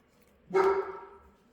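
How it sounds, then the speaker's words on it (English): A single dog bark rings out close by, loud and sharp, then fades away in a short tail. No one speaks. "That's my dog, Sophie."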